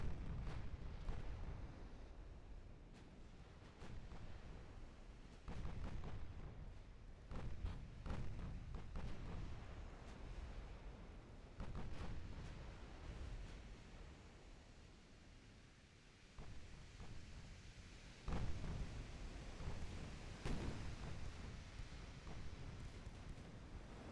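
A torpedo strikes a warship in the naval strategy game Ultimate Admiral Dreadnoughts, a series of heavy low booms and rumbling blasts over a constant windy roar, with a fresh loud impact near the end.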